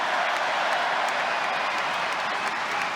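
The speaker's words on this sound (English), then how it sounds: "to applaud those that have performed their duty" A stadium crowd at an Arsenal versus Monaco friendly applauds the players, a broad, even wash of clapping and crowd noise heard from a distance that stays steady throughout.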